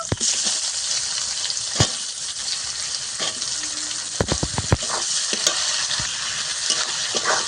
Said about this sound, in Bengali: পেঁয়াজটাকে আমি একটু ভালো করে ভেজে নেব যতক্ষণ না বাদামি বাদামি কালার হয়ে আসছে